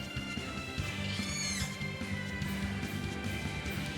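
A cat meows in the Tales of Berseria video game over dense game music and ambience, with a short rising, wavering call standing out near the middle.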